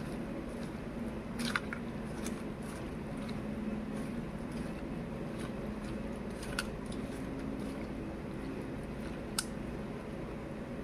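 Small fish being mixed with spices and turmeric by hand produce a steady close wet squishing and kneading sound that runs throughout, with a few sharper clicks and no talking.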